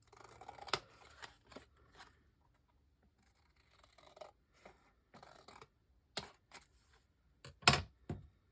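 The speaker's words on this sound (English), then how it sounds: "I need to trim it down just a little bit." Scissors trimming a sheet of paper down for a craft project, a series of crisp snips and short cutting bursts with pauses between, close and quiet, the strongest cuts near the end.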